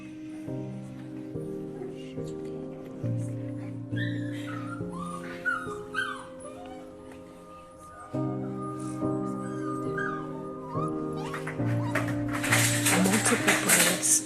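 Weeks-old puppies of multiple breeds huddled together at a puppy farm, whimpering and yipping in repeated high thin cries, with someone speaking over them and a brief noisy burst near the end.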